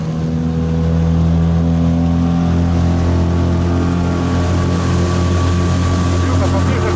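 All-terrain tracked vehicle engine running steadily after a warm start, a loud continuous low drone with strong harmonics and a slight rise in revs, heard outdoors by water.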